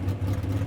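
A red Chevy gasser drag race car launches hard into a wheel stand, its engine roaring loud and close in a short, steady burst with no voices.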